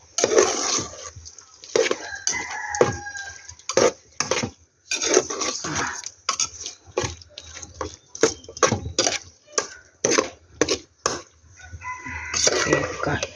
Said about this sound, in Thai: กำลังคั่วไก่